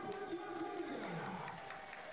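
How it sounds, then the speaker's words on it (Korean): Home fans at a K3 League football match between Cheonan City FC and Gangneung City FC make a faint, distant crowd roar with scattered cheering and clapping, heard under a voice. "홈팬들의 박수가 커질 수밖에 없죠"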